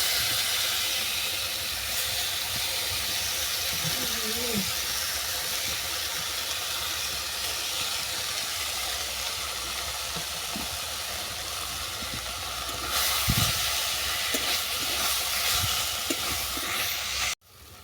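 Grated yam bean frying in butter in a pan, a loud continuous hiss and sizzle with occasional stirring scrapes, swelling briefly louder near the end before cutting off.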